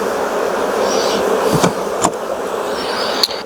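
Continuous buzzing of many honey bees close by as they are shaken from hive frames, a dense droning hum with a few sharp taps and knocks.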